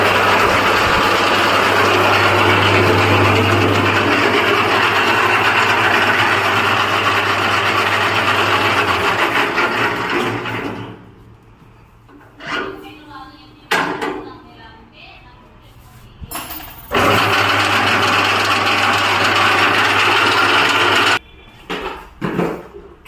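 A 3 hp gear-model chaff cutter with five blades runs in gear, making a loud steady mechanical drone with metallic rattling, then cuts off into quieter clanks before starting up again briefly; someone talks between runs.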